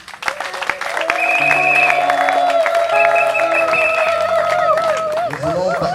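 Sustained audience applause at a charity donation ceremony in French, rising after a brief start and holding steady over a low hum of crowd noise and a faint sustained tone.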